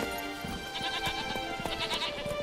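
Geralt's horse Roach answers a call in The Witcher 3, giving a bleating, whinny-like animal cry over a steady bed of game ambience and music, with no talk.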